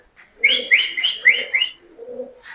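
King pigeons at a busy pigeon market give a close run of about five quick, warbling coos, followed by a softer call after a short gap. No talking.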